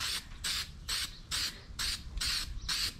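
Aerosol spray paint hissing onto a coffee bar sign in short repeated bursts, about six in three seconds, each a bright sustained hiss separated by brief pauses, close and fairly loud.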